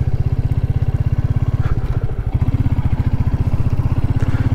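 Royal Enfield Meteor 350 motorcycle engine idling close by with a steady, rapid thumping pulse, loud and even throughout with a brief dip midway, no talk.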